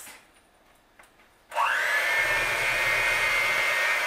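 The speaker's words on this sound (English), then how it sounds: "and now let's blend. Let's blend, let's whoop, let's mix." An electric hand mixer starts abruptly and whirs steadily as it blends thick peach upside-down cake batter, a loud, high-pitched motor drone after a few quiet kitchen knocks.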